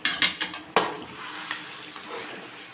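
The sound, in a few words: stirring Natukodi chicken curry in a pot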